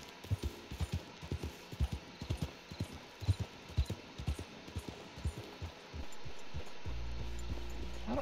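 Horse hooves clip-clop at a steady trot in the Red Dead Redemption 2 video game, moderately near. A low steady hum joins in toward the end.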